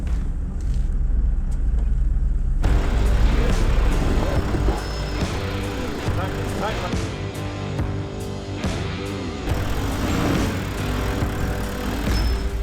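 A vehicle towing a trailer creeps slowly around a tight spot on an off-road trip through Anza-Borrego, its engine a steady low rumble that stays close and continuous throughout.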